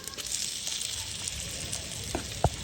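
Country chicken curry dropped by hand into a clay pot, a steady close sizzle with a couple of sharp clinks and a thump near the end; no talking.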